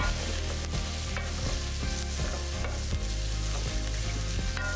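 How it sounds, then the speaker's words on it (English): Spinach with onions, garlic and herbs such as thyme, rosemary and oregano sizzles in a quick sauté. A loud, steady frying hiss carries brief stirring scrapes, heard up close with no talking. "This, you just want a nice quick saute, no longer than maybe a minute"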